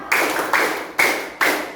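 Counted hand claps in an ice-breaking concentration game: four loud, crisp claps close by, spaced roughly half a second apart, each ringing briefly before the next.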